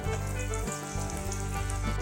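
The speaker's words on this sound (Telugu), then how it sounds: "పోపులు వేస్తున్నాము," Mustard seeds, dried red chillies, curry leaves, fenugreek and garlic sizzle and crackle loudly in hot oil for a coriander chutney tempering, a continuous close-up frying hiss with no talking.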